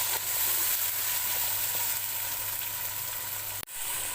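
Chopped large tomatoes sizzle steadily in a pan for a mutton cream korma, a soft continuous frying hiss with a faint low hum underneath and a brief clunk near the end.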